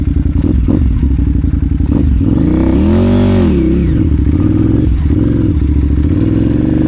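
An adventure motorcycle rumbles loudly close up on a snowy gravel road, its engine note rising and falling as the rider rolls the throttle on and off, with occasional clatter and thumps from the rough surface.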